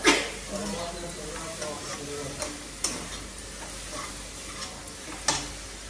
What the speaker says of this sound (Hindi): इनको अच्छे से मिलाएंगे पहले